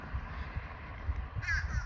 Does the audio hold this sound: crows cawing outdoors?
yes